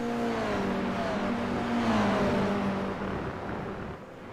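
Toyota GR86 race cars in a World GR86 Series race at Magny-Cours: an engine howls loud and close as a car revs and accelerates, its pitch shifting as it sweeps past and fades slightly at the end.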